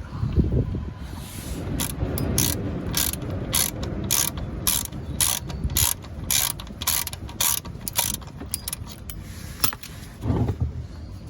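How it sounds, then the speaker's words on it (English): A ratchet with a 19mm socket loosens the sump plug on a VW Golf MK6 1.4 TSI, rapid repeated clicking strokes in steady bursts for about ten seconds, close up, with no talk. "I'm going to go underneath and open the sump plug, which is a 19mm socket."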